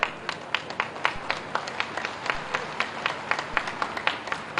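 At a religious gathering attended by Chief Minister Pushkar Singh Dhami, the crowd claps in a fairly regular, rhythmic beat, moderately loud and continuing steadily with no one speaking over it.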